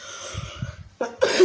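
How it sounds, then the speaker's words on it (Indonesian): A couple of soft coughs, then a sharper, louder cough burst close by. "Tiba-tiba batuk."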